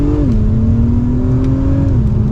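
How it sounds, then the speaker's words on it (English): A 2023 Acura TLX Type S SH-AWD in Sport Plus accelerating, a loud steady engine and exhaust drone heard from inside, with the pitch rising slightly then dipping at a shift, no speech. "This has a good bit of acceleration to it. Not crazy loud, but it's nice that it even has somewhat of an exhaust note tone"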